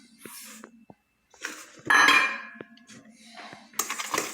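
Spoon stirring yeast and sugar in a bowl, heard as clinks and scrapes of metal against the bowl, some sharp and some longer, close by and fairly quiet.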